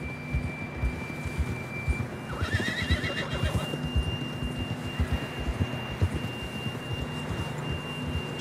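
A horse in Red Dead Redemption 2 lets out a loud, rising whinny partway through, with steady clip-clop hoofbeats and dull thuds running underneath the whole time.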